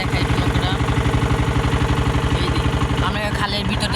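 A boat engine chugs loud and close on a river trip in Bangladesh, a steady rhythmic pulse throughout with a voice talking over it near the end.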